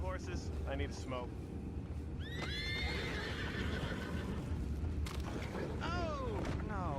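Horses neigh and whinny in Red Dead Redemption II over a rumbling outdoor ambience, with several sharp cries and faint hoof clatter nearby.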